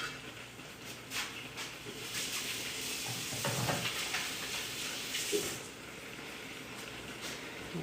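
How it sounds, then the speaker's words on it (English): Onions sizzle in hot oil in a pot of chili being stirred, giving a steady, fairly quiet crackling hiss broken by scraping stirs near the middle, with no talking over it. "you can see over here our onions are starting to sizzle up in the oil"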